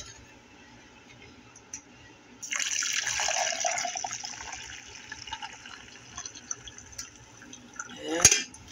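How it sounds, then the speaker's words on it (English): Coffee pours steadily into a cup for a few seconds, the trickle fading and thinning, followed by a sharp clink near the end. "Watch me pour some coffee."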